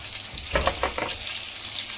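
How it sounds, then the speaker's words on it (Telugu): Onion and green chillies frying in oil with a little salt, a steady hiss of sizzling with a brief burst of spatula scrapes as they are stirred. "నూనెలో అనేది బాగా ఫ్రై అవ్వాలి మనకి ఉల్లిపాయ పచ్చిమిరపకాయ."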